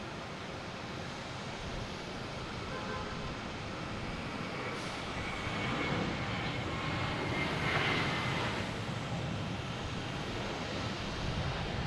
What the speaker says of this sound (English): American Airlines heading to Charlotte in A321.